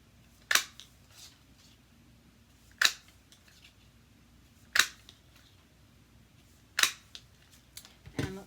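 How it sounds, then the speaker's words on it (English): A 1-inch paper punch snaps through paper again and again, with crisp, close clicks about every two seconds against a quiet background. "let's make a background with our little 1-inch punch. So let's just cut out a bunch of"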